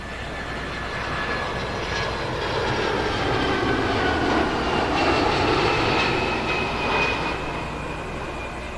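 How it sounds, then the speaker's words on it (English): A United Airlines Boeing 767-300ER on its flight from Chicago comes in to land at London Heathrow, a steady, broad jet-engine roar at moderate distance that swells slightly mid-approach and holds without pause. "Bringing in a 767-300ER."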